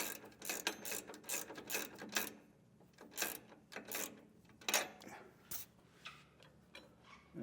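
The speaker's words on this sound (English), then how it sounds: "went ahead and snugged all these bolts up" A hand ratchet snugs the leaf spring U-bolt nuts on a 2024 Ford F-250 during an air helper spring install, with rapid bursts of close clicking separated by short pauses.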